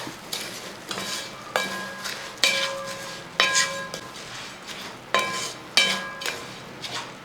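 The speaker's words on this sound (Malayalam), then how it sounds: "അവൽ ചേർത്ത് ഒന്ന് ഇളക്കി കൊടുക്കും" Flattened rice (aval) stirred in a pan, with a spoon striking and scraping the metal in a steady rhythm of about eight ringing strokes over a faint sizzle, close and clear with no speech.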